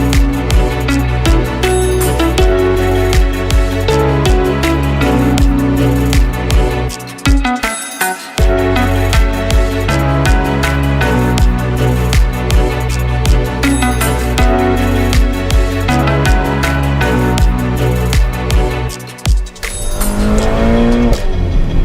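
A new Ferrari Portofino with a retractable hardtop, heard from inside while driving: its engine revs loudly and continuously with a rich, rising tone, broken by brief gear-change dips around the middle and near the end.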